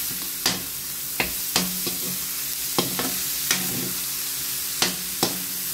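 Vegetables for pinakbet sautéing in a pan, a constant sizzle punctuated by several sharp taps and scrapes of a spatula against the pan at irregular intervals, close and with no talking.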